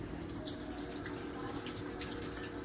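Tap water runs steadily into a kitchen sink for hand washing while a meatloaf is being made, a continuous even splash with no voices over it.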